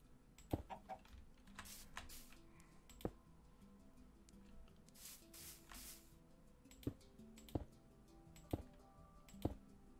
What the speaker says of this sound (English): you chasing a chicken?